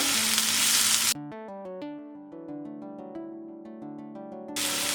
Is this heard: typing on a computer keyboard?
no